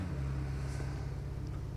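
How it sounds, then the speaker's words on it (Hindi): In a video game, a vehicle engine hums low and steady from behind the player, a faint continuous rumble without any talking. "तभी एक गाड़ी का साउंड और आता है मुझे पीछे से"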